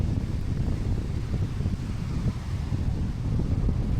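Strong wind roars across a rough seashore with powerful waves, a dense, continuous low rumble buffeting the microphone without letup.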